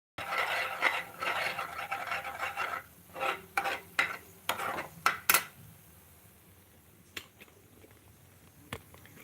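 Egg curry simmering in an onion, tomato, cashew and almond gravy, stirred with a utensil in quick uneven scrapes and taps against the pan, busy at first then sparse, with soft sizzling underneath.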